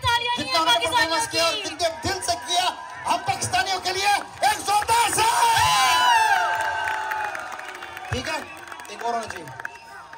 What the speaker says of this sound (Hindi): जोरदार से ताली होनी चाहिए हमारे लिए।